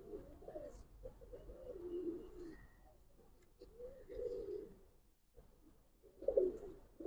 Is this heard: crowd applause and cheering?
no